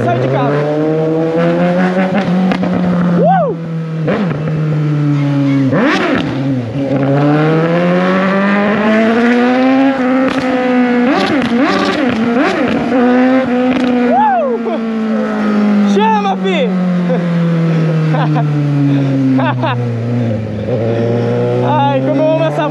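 A Suzuki GSX 750 motorcycle with a straight-pipe exhaust roars loudly and continuously while riding through town, its engine note rising and falling through repeated revs and gear changes, with occasional talk over it.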